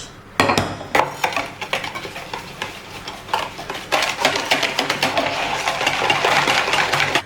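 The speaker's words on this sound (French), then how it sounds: "on va mettre notre œuf, nos 2 jaunes et notre sucre dans un bol et on va les mélanger" Egg, two yolks and sugar whisked together in a bowl for a Basque cake, a fast steady scraping and clatter of whisk against the bowl that runs continuously and close up, with no talk.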